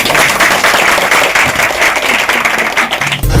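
An audience at a food and grocery handout for low-income families in Medavakkam, Chennai, breaks into loud, dense applause that carries on steadily for a few seconds before cutting off.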